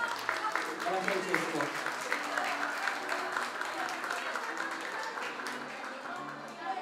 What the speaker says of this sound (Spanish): El aplauso entonces.